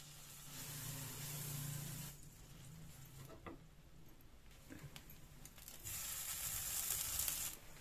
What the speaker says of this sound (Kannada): ಈಗ ನಾವು ಬನ್ ಫ್ರೈ ಮಾಡ್ಕೊಳ್ಳೋಣ. ಬೆಣ್ಣೆ ಹಾಕೋತಾ ಇದ್ದೀನಿ.